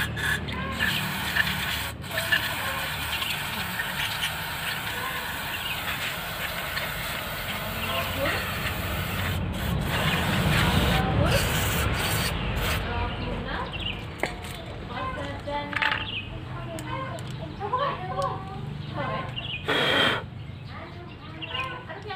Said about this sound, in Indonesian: Ini saya semprot di sini, keluar lewat sini.